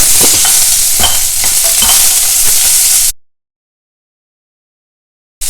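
Green chilli, ginger, carrot, capsicum, frozen peas and curry leaves hit a hot pan with a loud, close, hissing sizzle and stirring clatter for about three seconds, then cut off abruptly into silence.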